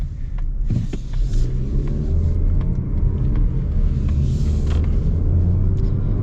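A 2025 Mazda CX-30 with a 2.5-litre engine of nearly 200 horsepower accelerates, its engine note climbing steadily in pitch over a continuous low rumble, heard from inside the car without talk.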